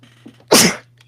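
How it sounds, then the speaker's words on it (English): A single loud, close sneeze bursts out after a moment of quiet breathing, followed by silence. "I feel like I'm about to sneeze."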